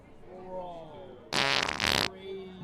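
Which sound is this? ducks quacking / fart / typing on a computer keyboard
fart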